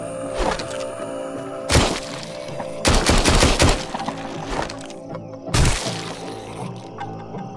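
Gunfire in the VR shooter Arizona Sunshine, horde mode, comes in sharp close bursts: a single crack, then rapid clustered volleys and another burst, over a steady hum of in-game music.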